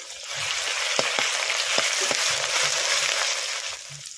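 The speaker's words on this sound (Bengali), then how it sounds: "তেল গরম হয়ে গেছে, তেলের মধ্যে দিয়ে দিচ্ছি তেজপাতা, শুকনো লঙ্কা, দিয়ে দিচ্ছি পেঁয়াজ কুচি।" Onion, bay leaves, dried chilli and ginger-garlic paste fry in hot oil for a spiced mince curry, a loud continuous close sizzle with occasional sharp utensil taps on the pan and no talking.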